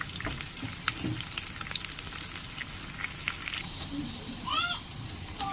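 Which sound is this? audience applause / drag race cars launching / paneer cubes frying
paneer cubes frying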